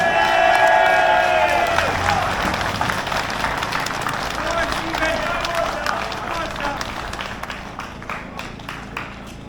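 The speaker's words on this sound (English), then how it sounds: "Give this man a round of applause." Protest crowd applauding and cheering as a speaker is introduced, dense clapping and shouts filling the space loudly throughout, with voices mixed in the din.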